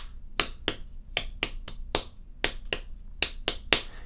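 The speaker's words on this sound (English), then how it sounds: "you want to be able to clap certain rhythms" Hands clapping out a rhythm, about a dozen sharp, close claps in an uneven counted pattern, alone in a quiet room.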